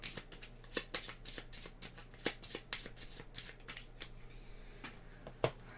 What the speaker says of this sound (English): shuffle this card with all the discards